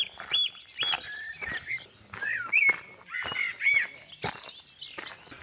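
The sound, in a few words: birdsong at dawn on the Somerset Levels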